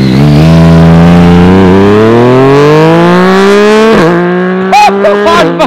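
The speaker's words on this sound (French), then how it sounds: "Les gars, MT-09 SP en action." A Yamaha MT-09 SP motorcycle rides past close and loud, its engine note rising steadily as it accelerates, then cutting off with quick shifter blips as it moves away.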